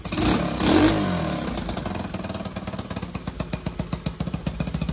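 A Honda CT70K0 motorcycle's small engine revs up and then settles into a rapid, choppy idle, with an exhaust leak adding a sharp, ragged popping pulse, loud and close.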